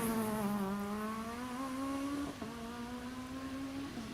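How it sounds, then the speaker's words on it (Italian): A naturally aspirated 1600cc rally race car engine, non-turbo, holds a steady high rev that climbs slightly, then shifts down briefly and pulls again, loud and buzzy with no voices. "Sentite la musica del 1600 aspirato, questo non ha motore turbo, questo ha un motore 1600, una macchina costruita per le corse."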